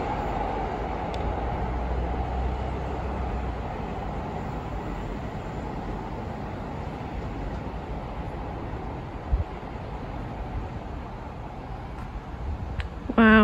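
A long, low rumble of a train rolling through Shawford station on the South Western Main Line, steady and continuous, with a brief clank near the end.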